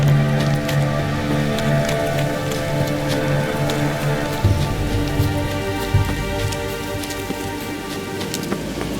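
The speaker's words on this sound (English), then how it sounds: "Looks like rain." Steady rain pattering on surfaces in The Witcher 3: Wild Hunt, a continuous dense downpour with scattered sharper drops over a low tonal game ambience and music bed, no voices.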